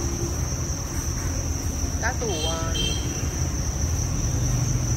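Dense, steady cricket chirping fills a cricket farm where live crickets are bought up and stored, a continuous high shrill drone at close range with a brief voice and faint background noise partway through.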